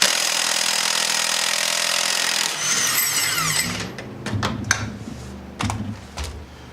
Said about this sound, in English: I've got a 7/8 impact on here, and we're going to remove our primary clutch bolt